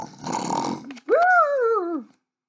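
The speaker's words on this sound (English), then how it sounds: "He's snoring loud" Two loud, drawn-out breaths: a rough rasping inhale followed by a rising and falling nasal drone, like heavy snoring close by.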